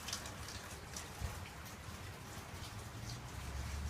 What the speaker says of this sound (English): And it's raining, got some on my shoes.